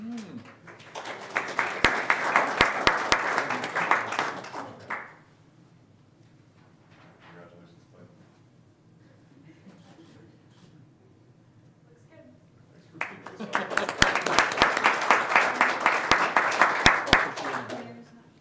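Applause at a city commission meeting honoring staff service anniversaries: two bursts of steady clapping from a room of people, each lasting about five seconds, separated by a quiet stretch with faint murmuring.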